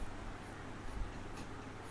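A pencil shades paper in rounded strokes, a soft, steady scratching close up and fairly faint.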